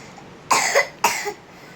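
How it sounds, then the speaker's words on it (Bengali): A boy coughs twice in quick succession, each a harsh, close burst against a quiet room. "ছেলেটারও খুব কাশি হচ্ছে"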